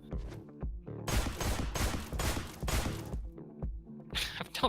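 Rapid bursts of gunfire in the video game Deadbolt fire in dense, repeated volleys with thumping impacts, loud and close, with a voice briefly heard among the shots.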